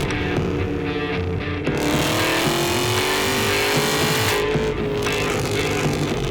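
A 2012 HSV Maloo 25th Anniversary Edition ute with a 6.2 litre LS3 V8 and sports exhaust roars close and loud, its engine tone climbing steadily as it accelerates, with a brief break in the middle.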